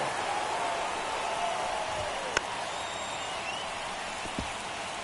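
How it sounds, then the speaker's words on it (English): Steady rain falls on a baseball stadium in MLB The Show 24: an even, dense hiss of drops pattering close by, broken by a couple of faint ticks, with no voices. "It feels like we might be headed towards a rain delay if the weather doesn't ease up, Chris"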